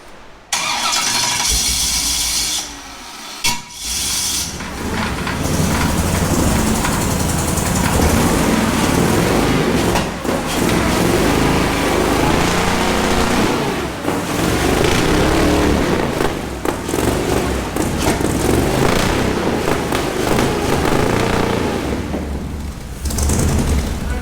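The engine of an off-road wrecker with electronic, computer-controlled engine management cranks briefly, then fires and settles into a loud, steady running roar that continues without a break.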